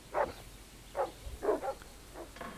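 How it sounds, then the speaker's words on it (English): Dogs barking in the video game Partisans 1941: four or five separate sharp barks at an uneven pace, moderately close, standing out clearly against a quiet ambient background. "Oh no, they've got dogs."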